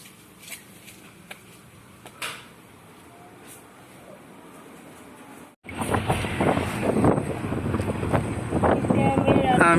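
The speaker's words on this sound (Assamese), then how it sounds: "বহুত ধুনীয়া বতাহ আহিছে" Wind blowing outdoors: a quiet stretch with faint clicks and bumps gives way halfway through to loud, continuous rushing wind buffeting the microphone up close.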